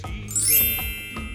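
A bell-like notification ding with bright tinkling chime tones, followed by faint sparkling shimmer, short and fairly clear over a low background rumble.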